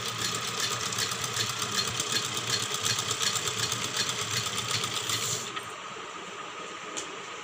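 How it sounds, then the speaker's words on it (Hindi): A sewing machine runs steadily while stitching a roughly one-inch strip for a princess-cut blouse, giving a close, continuous mechanical whirr with a fast rhythmic needle clatter that stops near the end and leaves a quieter hum. "तो मैं इसमें एक इंच के करीब सिलाई लगा लेती हूँ"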